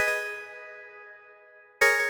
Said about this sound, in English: I also layered up the chords with this bell sound